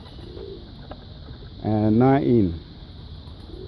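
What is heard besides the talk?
birds chirping and cooing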